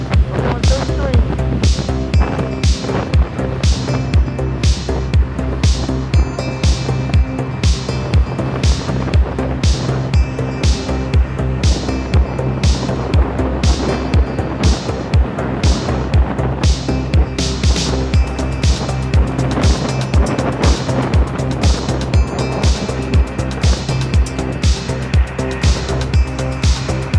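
A Kaabo Mantis electric scooter runs at top speed across the Golden Gate Park Polo Fields, with heavy wind buffeting and roaring throughout. A steady rumble of the ride sits under a rapid, repeating ticking pattern.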